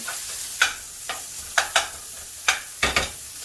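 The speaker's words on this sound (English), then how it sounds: "I know y'all can hear that sizzling now." Steady crackling sizzle of bacon frying in a hot pan, close up, with a few sharp pops and spatters breaking through at irregular intervals.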